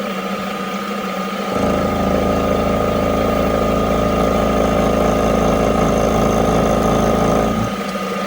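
Small mini mill cutting steel at 1000 rpm, 1mm per pass, a steady loud motor drone with a cutting whine that starts after about a second and a half and holds evenly before easing back down near the end.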